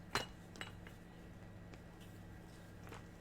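A glass bottle clinks against other small containers, a few sharp, faint taps scattered through quiet room noise.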